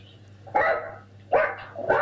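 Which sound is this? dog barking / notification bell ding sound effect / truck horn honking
dog barking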